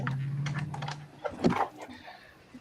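A computer keyboard is pulled out and handled, giving soft plastic clacks, taps and shuffling bumps close by, with a brief louder knock in the middle.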